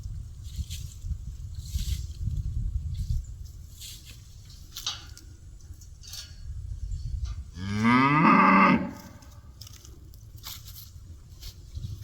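Cattle on a farm with a high tunnel garden: one loud, drawn-out moo close by, with faint soft rustling and background noise before and after.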